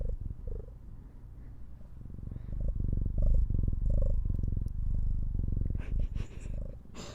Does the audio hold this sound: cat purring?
yes